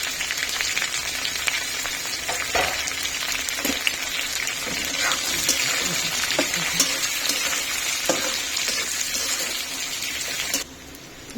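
Green chillies, carrot, onion and peas fry in hot oil for a mixed vegetable curry, giving a loud, steady sizzle broken by the stirring and scraping of a spoon. The sizzle stops abruptly near the end.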